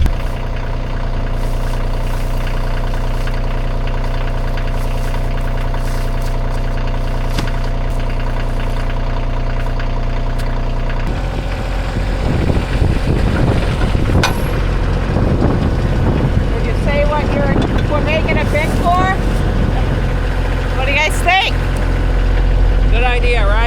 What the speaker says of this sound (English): just the tractor's pretty loud